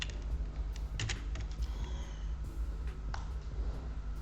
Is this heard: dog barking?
no